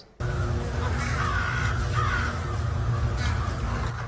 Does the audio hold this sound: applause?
no